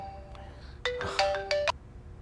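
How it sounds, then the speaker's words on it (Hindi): A phone ringtone sounds for an incoming call in an Indian movie scene: a faint melodic tone at first, then a louder bright electronic ringing pattern in two bursts, with no talk over it. "इस टाइम पे क्यों फोन कर रहा है?"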